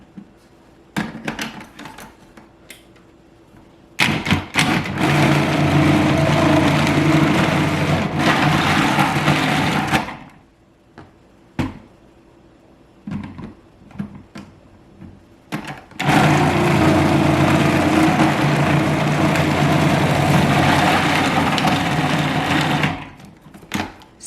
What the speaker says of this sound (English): so my food processor's plugged in. I'm just gonna start putting the cheese in.